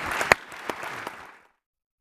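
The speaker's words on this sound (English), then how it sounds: "Ladies and gentlemen, would you join me in applauding these wonderful speakers?" Conference audience at a Future of War event applauds the speakers, a brisk scattered clatter of clapping with a few sharp close claps that dies away after about a second and a half into silence.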